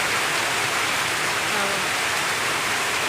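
Heavy rain pours down in a dense, unbroken roar that holds loud and steady throughout.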